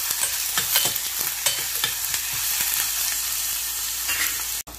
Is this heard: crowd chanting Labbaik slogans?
no